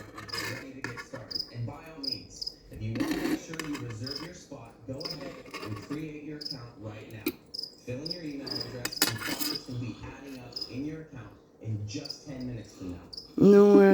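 A cricket chirps in close, rhythmic bursts, with a French-speaking voice talking over and between the trills.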